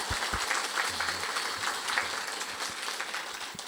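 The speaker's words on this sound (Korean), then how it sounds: "신부님께 다시 한번 감사의 박수 보내주시면 감사하겠습니다." A church congregation claps in thanks to a priest after a Lenten lecture, a soft, steady patter of applause heard from a distance with a few low thumps underneath.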